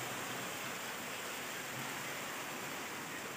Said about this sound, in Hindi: ये गुड़गांव में बारिश बहुत पड़ रही है।